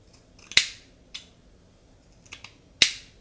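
Scissors snip through curly hair in a salon, a few crisp, close cuts spaced unevenly apart with quiet pauses between them and no talking.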